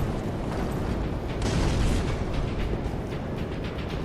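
Grenade explosions in the Dark Souls 3 game: a dense, rumbling burst swells up midway and fades back into a continuous blasting, crackling din, loud with no voices.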